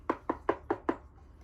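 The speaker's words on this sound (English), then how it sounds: "He knocked on the barn door." Five evenly spaced knocks sound on a barn door in a quick, steady rhythm. They are fairly soft and close, with nothing else heard.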